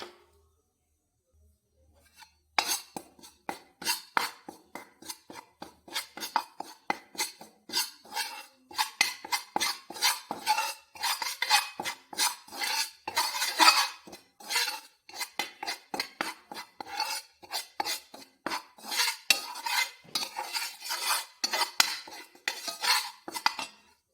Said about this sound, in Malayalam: ഇതിനകത്ത് മുളക് പൊടി മല്ലിപ്പൊടി എല്ലാം ഇട്ട് കൊടുത്തൊന്ന് ഇളക്കി കൊടുക്കാം ചൂടാക്കിയെടുക്കാം